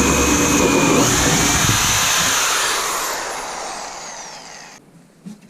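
A 4.5 inch hole saw bores through a shower wall, a steady loud whirring grind that gradually fades over several seconds before cutting out near the end.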